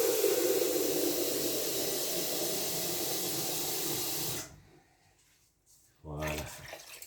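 Water pouring into a pot of canned peas, a steady loud hissing gush for several seconds that stops abruptly, then a brief clatter and a voice speaking.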